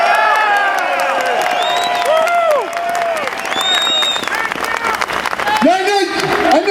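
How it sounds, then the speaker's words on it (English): A large crowd at a patriotic rally applauds veterans with loud clapping, whoops and cheers, while amplified speech carries over the noise. "A round of applause for those vets out there today"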